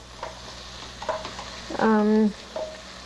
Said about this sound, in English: you let the ginger and garlic also cook a little bit